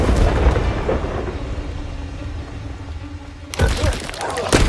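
Confringo spell explosions in Hogwarts Legacy, booming blasts at the start and a heavy burst near the end over a rumbling battle bed, with a voice shouting spell names.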